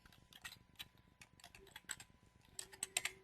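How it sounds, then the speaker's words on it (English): Rapid, uneven keystrokes on a computer keyboard as an email address is typed, close and fairly quiet, with clicks clustering into quicker bursts toward the end and no voices. "I'm going to type my email address in."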